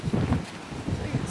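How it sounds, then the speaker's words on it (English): Strong outdoor wind gusts buffet the microphone in a steady low rumble with rustling, continuous and close throughout the short stretch. "Very windy."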